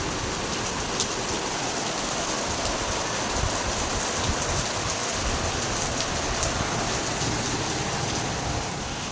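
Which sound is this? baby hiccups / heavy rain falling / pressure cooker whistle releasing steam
heavy rain falling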